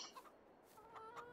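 Chickens cluck softly in Farming Simulator 22, a brief burst of short, quiet clucks from hens on a farm, with no talk over them.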